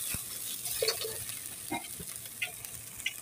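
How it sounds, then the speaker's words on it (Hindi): Peas, cabbage and onion frying in a pan while being stirred, with a soft steady sizzle and a few light spoon scrapes and clinks, no voices. "ये भून लेंगे"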